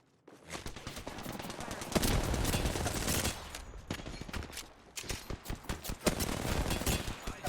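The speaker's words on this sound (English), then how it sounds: "enemies are shooting at me." Enemy gunfire in the video game Apex Legends: dense, rapid bursts of shots crackle almost continuously at close range, with brief gaps between volleys.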